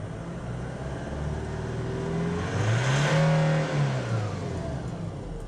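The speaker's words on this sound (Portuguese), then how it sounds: "Eu vou começar a acelerar o veículo" A light common-rail diesel vehicle's engine revs up, its tone rising steadily to a peak and then falling back, a continuous loud drone close by with no talking.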